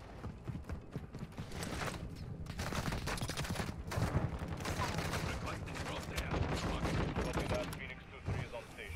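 Rapid automatic fire from a TAQ-V rifle in Warzone 2, dense rattling bursts close by and loud, continuing for several seconds with brief pauses, mixed with other shots and movement noise.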